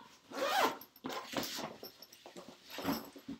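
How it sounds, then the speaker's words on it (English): A backpack zipper is pulled shut in a few quick, close zipping strokes, each a bright rasping burst with short pauses between, and no voices. "Just zip my backpack up."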